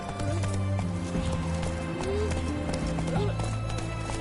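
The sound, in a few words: horse galloping in the video game The Witcher 3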